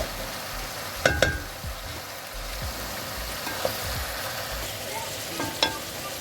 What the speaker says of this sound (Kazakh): Сәбізімізді салдық, енді кішкене қуырылсын